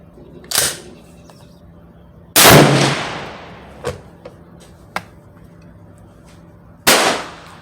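A Swiss K31 bolt-action rifle fires three loud, sharp shots at a target 25 yards away at an outdoor range, spaced a few seconds apart, with quieter clicks of the bolt being worked between them.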